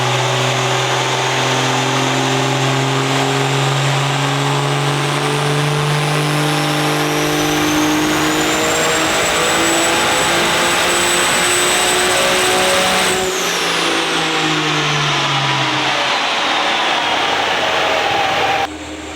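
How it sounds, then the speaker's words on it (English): Car engine revving hard on a dyno after being rebuilt from a hole in the block, a steady loud drone with a rising turbo whine that climbs, holds, then drops off as the run ends. "I'll throw the dyno runs and the street drives in here"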